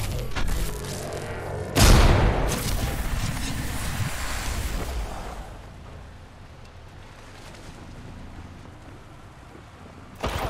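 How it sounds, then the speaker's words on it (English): An artillery strike in the Apex Legends video game: a single loud, close boom with a rumbling tail that fades into a low, distant rumble, followed near the end by another sharp impact. "Didn't expect the artillery to come and get me"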